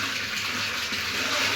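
Water gushes steadily into a large container, filling about 400 litres of drinking water mixed with vaccine for poultry; a continuous, fairly loud rushing splash with no voices.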